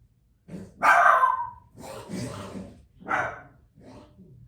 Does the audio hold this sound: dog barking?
yes